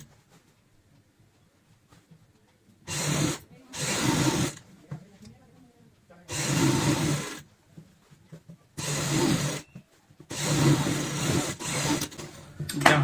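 A sewing machine runs a half-inch seam on a homemade ladies party bag in four separate bursts of stitching, each a few seconds long, with quiet pauses between them and no talking.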